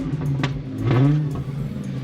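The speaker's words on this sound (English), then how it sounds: "This car sounds so good" A cheap, worn Ferrari flip car revs nearby, a rising and falling engine note building to one fuller swell midway before easing back, heard alone.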